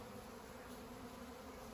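Swarming honey bees fill the air near a Flow hive with a continuous, even hum that holds steady from start to finish.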